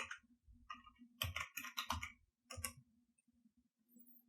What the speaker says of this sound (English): I'm going to reopen JAWS by pressing the Windows key and typing JAWS